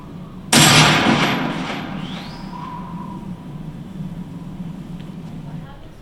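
A single loud gunshot in the Metal Gear video game cracks sharply and then decays in a long ringing tail, followed by quieter background sound.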